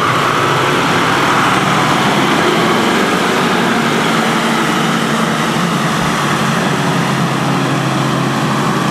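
An overland vehicle's engine works hard through a tight clutch turn on a rough track in Gabon, a loud, steady, broadband roar with a low rumble that holds throughout, close and with no talk over it.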